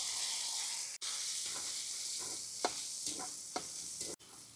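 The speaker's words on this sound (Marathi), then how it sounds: "गावठी तूप, साबुदाणे आपण भिजत टाकले होते ते फ्राय करून घेऊ।" Soaked sabudana pearls frying in homemade ghee in a pan, a steady close sizzle with a few brief stirring scrapes and short gaps where the sizzle cuts out, no voices.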